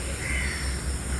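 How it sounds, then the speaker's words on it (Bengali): A crow caws briefly and faintly on a training-centre campus in Bogura on an early drizzly morning, with no voices nearby. "ক্যাম্পাসে শুধু পাখির ডাক ছাড়া আর কিছুই শোনা যাচ্ছে না।"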